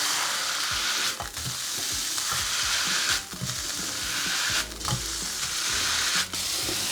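Beef sizzles loudly in a hot pan with onions, a dense, steady frying hiss broken now and then by the scrape of the meat being pressed or moved.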